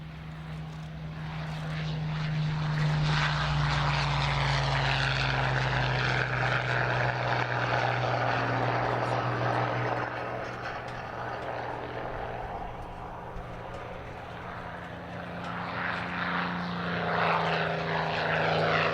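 A Hawker Hurricane and a Supermarine Spitfire fly low at the Wings Over Illawarra airshow, their propeller engines roaring loudly as they approach, then fading and swelling again over about twenty seconds, with a commentator's voice faintly underneath.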